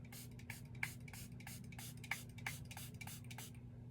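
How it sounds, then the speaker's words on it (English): Setting spray is misted onto a face, a rapid series of about a dozen short hissing pumps over a steady low electrical hum. "All I have to do is just whack on some setting spray"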